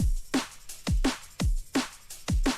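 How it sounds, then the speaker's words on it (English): Punchy drum loop run through a tape-saturation send, heavy kick hits with bright snare or clap cracks in a steady repeating groove, slightly muffled and warm with a gritty distorted edge, alone with no talk. "the first send I use is called Bite, and it basically just adds some tape to the drums, which sounds like this."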